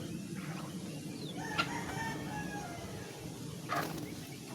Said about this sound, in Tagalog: nasabuyan na po natin lahat yan ng ating mga alagang manok na nakakulong